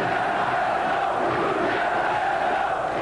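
A packed stadium crowd of Flamengo supporters roars and chants at a football match, a loud, sustained wall of cheering with no break.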